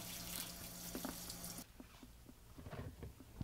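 Tap water runs into a sink while a lace closure is shampooed, a steady gush that stops partway through, leaving quiet drips and soft handling sounds.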